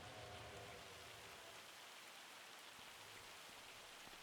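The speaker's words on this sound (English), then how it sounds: "Oh, it's raining." Steady rain falls in the farming game Dreamcatcher Valley, a soft, even hiss of drops on surfaces, continuous and quiet from start to finish.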